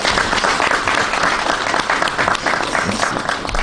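An audience applauds the minister at a health and environment event, a loud, continuous clapping from a crowd with no break.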